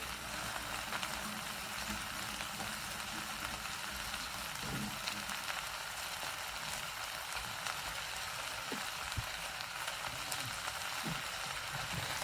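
Minced meat frying for a cottage pie, a steady soft sizzle and crackle held evenly throughout, with a few faint clicks and light stirring knocks underneath.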